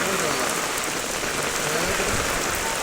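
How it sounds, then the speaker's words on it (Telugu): Heavy, steady rain pours down across a flood-hit agency area of the Godavari districts, a dense continuous hiss of drops hitting surfaces, loud and unbroken throughout with no voices. "ఆగకుండా కురుస్తున్న వర్షం ధాటికి ఏజెన్సీ ప్రాంతం వణికిపోతోంది."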